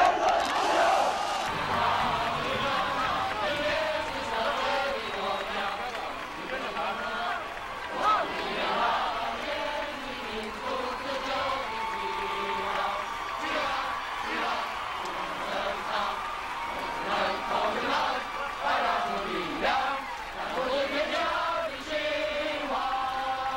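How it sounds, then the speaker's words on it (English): Tens of thousands of student demonstrators crowd the streets in 1989 China, their chanting, singing and cheering forming a loud, dense roar that swells and surges throughout. "Tens of thousands of students responded by crowding the streets, singing, chanting, cheering, and creating a jubilant noise that was deafening."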